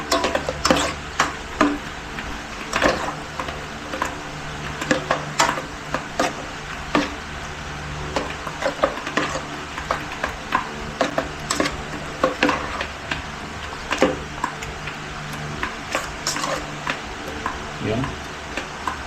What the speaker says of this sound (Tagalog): Haluin ko lang.